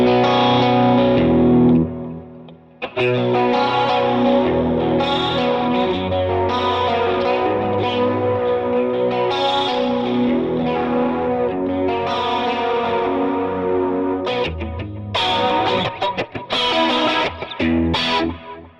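Electric guitar through a Line 6 HX Stomp set to a CE-1-style chorus on one side only, playing sustained swelling chords with a shimmering, slightly scratchy modulated tone, steady and loud with a brief dip early on.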